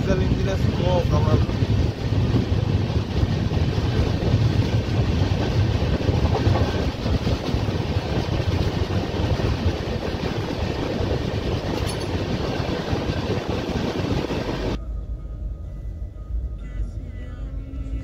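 A diesel-hauled Bikaner-Kolkata Pratap Superfast express runs with a steady loud rumble and wheel clatter, heard from on board, with a voice talking over it before the noise drops away near the end.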